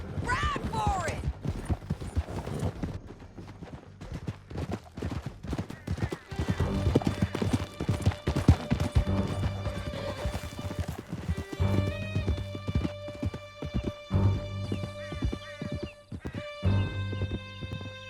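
Horses galloping in Red Dead Redemption 2, with steady clip-clop hoofbeats and occasional whinnies during a canyon chase, joined by music and shouted game dialogue.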